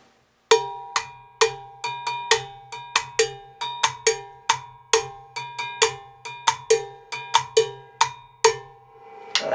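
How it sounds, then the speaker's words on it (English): Bongo bell plays a timba salsa pattern lined up with rumba clave, sharp metallic strikes in a syncopated repeating rhythm with a lower drum tone underneath, close and loud with no voices. "So when you match the bongo bell up to the clave,"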